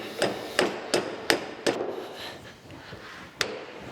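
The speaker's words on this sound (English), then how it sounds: "I'm gonna have to tap them a little bit to get them to come out that last little bit." A hammer taps the jaws out of a rusty Bison six-jaw lathe chuck in five sharp, evenly spaced metallic knocks. A pause follows, then one last knock, all close and clear.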